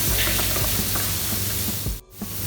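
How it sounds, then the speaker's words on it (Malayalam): Chana dal frying in a pan while being stirred, a dense continuous sizzle with scraping movements that drops out briefly near the end before the frying hiss returns. "ഒരു 5 മിനിറ്റ് നമുക്ക് പരിപ്പൊന്ന് ഫ്രൈ ചെയ്ത് കൊടുക്കാം."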